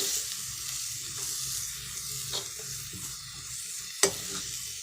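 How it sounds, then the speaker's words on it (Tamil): Ground onion and tomato paste sautéing in a pan, a steady close sizzle and frying hiss with occasional stirring scrapes and one sharp clack near the end, no talk. "இந்த வெங்காயம் தக்காளியை போட்டு அரைச்சி வச்சு வெங்காயம் தக்காளி இதை கொஞ்சம் வதக்கி வச்சுக்கலாம்"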